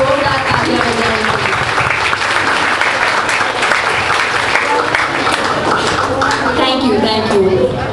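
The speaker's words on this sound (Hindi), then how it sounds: "तो आप सब लोग जोरदार तालियां बजाएंगे।" Loud, sustained applause from an audience, a thick continuous wash of clapping hands with crowd voices and talk running underneath the whole time.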